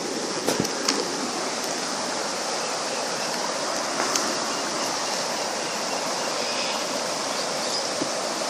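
Water gushing down a rainforest stream in Australia, a dense, steady rushing roar that holds loud and unbroken throughout with no voices over it.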